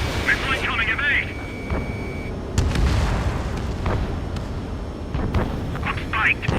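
Missile impacts and explosions in the flight combat game Ace Combat 7 boom and rumble beneath jet engine noise, with several heavy bursts and radio-style voices talking over the action.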